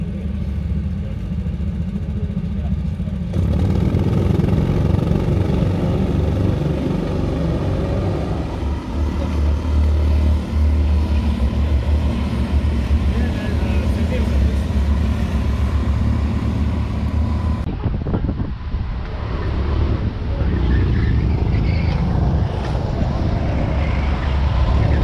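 Go-kart engines at a Castle Combe karting championship race make a continuous loud buzzing drone with wind buffeting. The drone drops briefly near the end before resuming.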